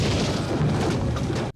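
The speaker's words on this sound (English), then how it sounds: "Rocket launcher." Rocket launcher blast from the film Predator 2, a dense, loud roaring boom that fills the whole short clip without a break and ends abruptly.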